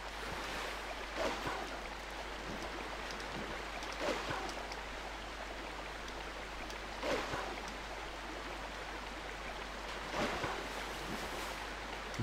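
A waterfall in The Legend of Zelda: Twilight Princess video game: a steady, broad rushing of water that fills the whole stretch, with faint surges every few seconds and no speech.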